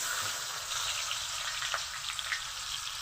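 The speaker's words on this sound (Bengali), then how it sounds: "আমি কড়াইয়ে তেল গরম করে নিয়েছি। প্রথমে তেলের মধ্যে দিয়ে দিব পেঁয়াজ কুচি" Chopped onion dropped into hot oil in a wok for a shapla and prawn curry, giving a steady close sizzle with faint crackles throughout.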